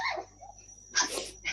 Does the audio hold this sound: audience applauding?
no